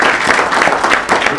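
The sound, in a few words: audience applause for legislators at a breakfast event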